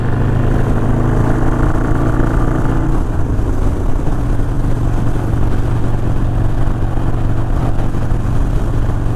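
Harley-Davidson Sportster motorcycles cruising on a scenic tour, a steady loud engine drone running continuously throughout, with a slight shift in tone partway through as the throttle changes.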